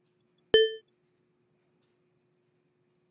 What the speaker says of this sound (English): and then you hear a camera shutter, and it takes a picture